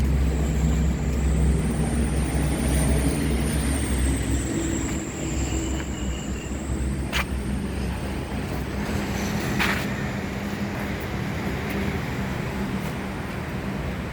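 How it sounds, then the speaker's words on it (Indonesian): A new Volvo B11R double-decker bus pulls away on a steady, continuous engine drone and road rumble, loud and close, with a whining tone sweeping along above it and no talk. "Ini bus double decker yang terbaru,"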